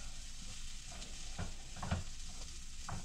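Celery and onions sizzle steadily in a frying pan while a spoon stirs them in a few soft scraping strokes, close and alone.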